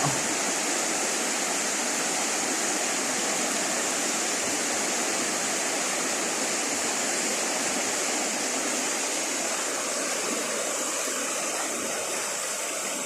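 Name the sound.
strong floodwater rushing near a bridge in Bohol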